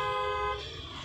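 A car horn sounds one short, steady honk that cuts off after half a second, leaving a low engine rumble.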